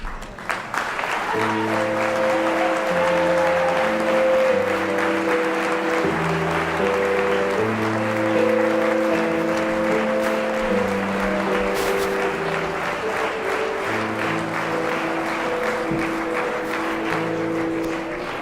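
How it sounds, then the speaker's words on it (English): Long, steady audience applause honors Holocaust survivors at a Havdalah ceremony during the March of the Living, with sustained music playing underneath throughout. "Please rise so we can applaud you as well."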